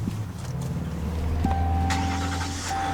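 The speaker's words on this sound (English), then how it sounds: "Takes a second to start up because, you know, diesel can't just like fire right up like a regular engine" Ram EcoDiesel truck diesel engine cranking and catching, rising to a steady, close, low idle rumble with a faint whine, and no talking.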